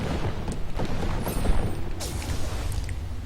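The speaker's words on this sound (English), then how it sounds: "What I got hit with is basically a cannon" Cannon fire in the video game Armillo lands as a series of dull booms and thuds under busy game sound effects, loud and irregular, with a sharper crack near the end.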